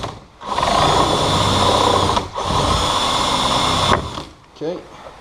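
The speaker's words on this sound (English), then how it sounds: "I'm just going to drill through one side of" Power drill boring through one side of a pipe for a kayak duck blind build: loud, high whining bursts of drilling close by, cut by brief pauses between runs.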